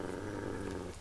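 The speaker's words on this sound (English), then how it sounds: "Oh, such a stupid dog." A dog growls in Fallout 3, a low continuous rumbling snarl lasting about a second, steady and fairly close, with no talking over it.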